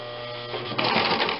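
Domestic sewing machine running in reverse, stitching backwards through fabric; a steady mechanical whirr that starts quietly, then speeds up and grows louder, close by with no talking.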